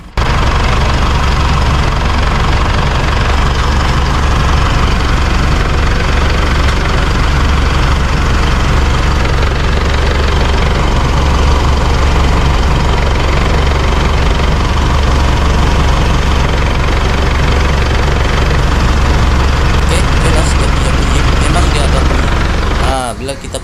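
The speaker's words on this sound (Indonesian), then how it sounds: "Ini saya suruh punya kawan pijak di atas, pijak lepas, pijak lepas. Kamu dengar betul-betul dia punya bunyi krrrr" An Isuzu D-Max iTEQ engine runs loud and close with a rough, continuous rumble while the clutch pedal is repeatedly pressed and released, the drone holding steady for over twenty seconds.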